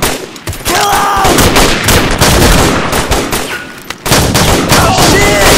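Gunfire in a toy soldier action film, with dense bursts of rapid shots and explosive cracks filling the clip loudly, broken by a brief pause before another barrage.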